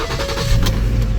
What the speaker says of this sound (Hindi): गाड़ी स्टार्ट करेंगे